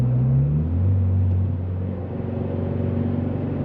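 Subaru BRZ fitted with a custom exhaust pulls hard in third gear, a loud, close, steady engine drone whose low pitch climbs and then settles, with no one talking.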